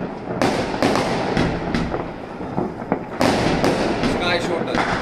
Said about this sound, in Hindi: sky shot